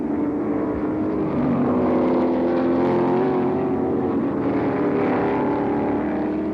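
1968 Can-Am race cars at the Stardust Grand Prix in Las Vegas hold a loud, steady, droning engine roar throughout, with the pitch swelling slightly as cars press on.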